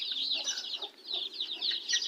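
Young chicks in a cage giving a continuous run of high, thin peeping chirps, several overlapping in quick bursts, fairly close but soft, with no talk.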